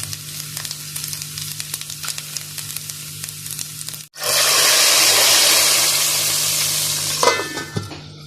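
Oil bursts into a loud, steady sizzle as whole cumin seeds hit the hot pan, following a quieter stretch of kitchen background noise, the frying hiss continuing up close.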